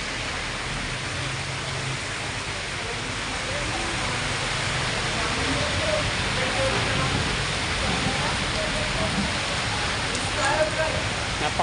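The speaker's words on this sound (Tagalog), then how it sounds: "Lakas ng ulan oh." Heavy rain pours down in a constant dense hiss, loud and close, with faint voices now and then beneath it.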